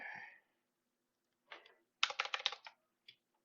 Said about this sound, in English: There's some keyboard ASMR for you.